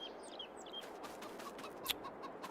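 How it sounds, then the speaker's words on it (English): Chickens in a farming video game clucking and chirping, soft repeated short calls scattered over low background noise, faint and without talking. "Chickens need food."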